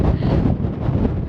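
Strong wind near the Golden Gate Bridge buffets the microphone with a steady, loud, rumbling roar that runs through the whole stretch without a break.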